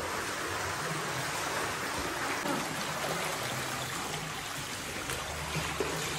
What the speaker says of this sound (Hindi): वो उधर से निकाल रहा है, उधर से बाढ़ आ गई ना